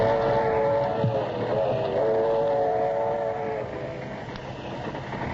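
A steady train rumble rolls along at moderate volume for the whole stretch, a radio drama sound effect with a low mechanical drone and faint tonal bands, no voices over it.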